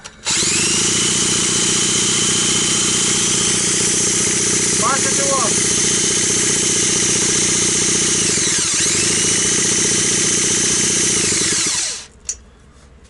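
Stihl 180 chainsaw two-stroke engine running steadily and loudly during a cold break-in after a piston replacement, a continuous droning buzz for about twelve seconds before cutting out, with brief talk over it.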